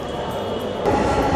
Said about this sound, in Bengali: আমার পেছনে কিন্তু একটা মেট্রো চলে এসেছে